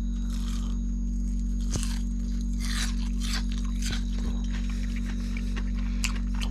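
Close crunching bites into crispy fried mangrove jack fish at a camp on a small inflatable boat, several short crunchy bursts and tears over a steady low hum, no talking.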